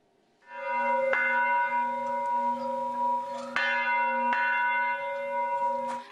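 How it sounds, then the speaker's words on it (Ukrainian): Church bells in Ivano-Frankivsk ring out loud and clear, several distinct strikes over a sustained, shimmering hum of ringing tones. "Від самого ранку над Івано-Франківськом не стихає дивовижний церковний передзвін."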